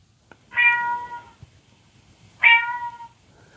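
Robot pet companion playing a recorded cat meow, two clear, loud, nearly identical meows about two seconds apart in a quiet room.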